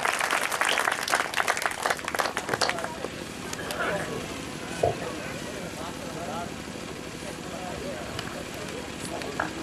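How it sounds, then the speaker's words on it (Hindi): An audience at a Hindi poetry recital bursts into loud, crackling applause that fades after a few seconds, giving way to someone speaking over a quiet hall. "जोरदार तालियां बजाएं दादा रविंद्र शुक्ल।"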